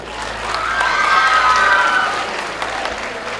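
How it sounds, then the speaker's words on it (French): Audience applause at a youth film awards ceremony as a jury is invited to clap for a trophy presenter, a steady dense wash of many hands swelling and then easing, with faint crowd noise mixed in. "Membres du jury, on applaudit très très fort."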